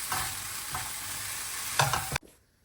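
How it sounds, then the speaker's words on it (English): A spatula stirs a melted chocolate mixture in a pan over low flame, giving a soft continuous scraping and sizzle with a couple of firmer strokes, then cutting off abruptly. "Mix it really well."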